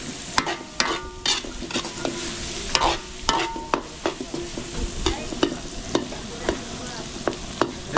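Onion sautés in a hot pan, giving a steady sizzle broken by repeated sharp scrapes and clinks as a utensil stirs it.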